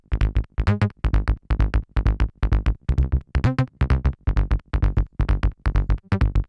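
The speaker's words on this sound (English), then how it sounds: "For the bass, I wanted something snappy and lively" Snappy, lively synth bass in a swingy groove, pumping in short punchy repeated notes with bright buzzy harmonics, loud and rhythmic, alone without any talk.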